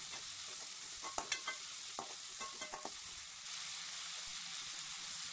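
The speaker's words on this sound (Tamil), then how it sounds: "நல்லா வதக்கி விட்டுடலாம்." Green chillies and tomatoes sautéing in oil in a pan, a steady close sizzle with a few sharp spoon-scrape clicks against the pan partway through.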